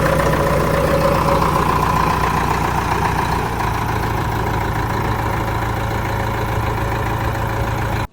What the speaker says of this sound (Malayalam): എഞ്ചിൻ ഒന്ന് സ്റ്റാർട്ട് ചെയ്തേ, വണ്ടി ഒന്ന് സ്റ്റാർട്ട് ചെയ്തേ. എഞ്ചിന്റെ സൗണ്ട് കേൾക്കുമ്പോൾ നിങ്ങൾക്ക് മനസ്സിലാവും.